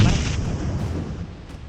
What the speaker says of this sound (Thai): อุ้ยระเบิดระเบิด